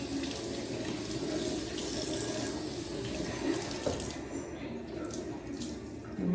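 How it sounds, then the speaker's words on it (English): Cold tap water runs steadily and splashes, with a few small shifts in the flow as a raw hair closure is rinsed under it. "Using cold water now to close your cuticles back up"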